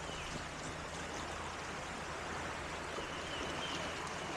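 The Obed River runs high and flooded after heavy overnight rain, a steady broadband rush of flowing water, fairly faint and continuous with no talking.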